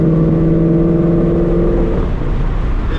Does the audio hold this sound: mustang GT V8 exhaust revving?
yes